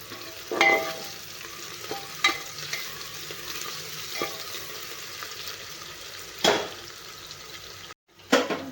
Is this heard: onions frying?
yes